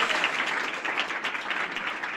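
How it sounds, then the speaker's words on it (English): An audience applauds a volunteer called up on stage at a magic show, steady dense clapping filling the room throughout without a break. "Give him a round of applause."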